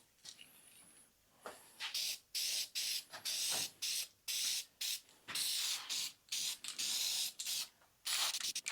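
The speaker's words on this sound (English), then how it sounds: "So let's just spray it on real quick." An aerosol can sprays in a series of short and longer hissing bursts onto a Datsun's engine bay, close and loud, separated by brief pauses.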